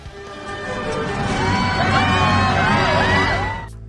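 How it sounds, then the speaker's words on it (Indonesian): A stadium crowd cheering and whooping at the finish of a car race in the animated film Cars, a dense roar of many voices that swells and holds loudly before fading slightly. "Penonton langsung sorak-sorai."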